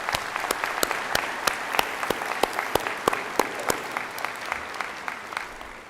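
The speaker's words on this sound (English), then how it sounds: "If the crowd will join me in a round of applause for our wonderful faculty." A commencement crowd applauds the faculty with steady clapping from a moderately distant audience. Individual claps stand out in a brisk rhythm that holds for several seconds.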